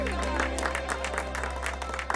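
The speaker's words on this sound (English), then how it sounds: "Let's get a round of applause for Tara Wylde, our summertide star" A crowd claps steadily at a summer festival in the video game Wylde Flower, the dense applause continuing evenly over a constant low electronic hum, fairly close and loud.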